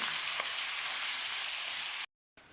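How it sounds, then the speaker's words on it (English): Ground meat for a Nigerian meat pie filling sizzles and hisses steadily in a hot pan as it is stirred, then the sound cuts off abruptly for a moment. "Now you add your grounded meat to it and stir."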